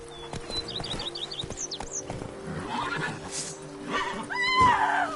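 In The Witcher 3: Blood and Wine, the horse Roach gallops with rhythmic hoofbeats beneath birdsong chirps, ending in a loud neigh.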